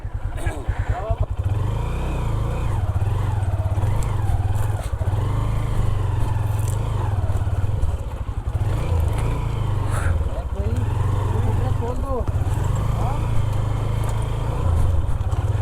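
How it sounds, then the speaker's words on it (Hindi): A motorcycle engine runs steadily while another bike is towed slowly across rough off-road ground on a camping trip. The low, continuous drone holds throughout, with people talking over it. "बाइक को ड्रैग कर रहे हैं"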